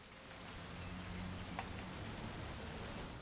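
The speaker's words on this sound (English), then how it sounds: "It's gonna rain the whole weekend, isn't it?" Steady, fairly faint rainfall in the video game What Remains of Edith Finch hisses evenly throughout, a soft continuous wash with no voices.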